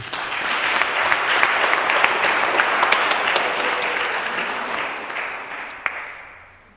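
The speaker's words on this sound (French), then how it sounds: "On peut t'applaudir aussi." A church congregation at Sunday Mass applauds a new musician with a dense, close round of clapping that holds steady, then thins and fades away at the end.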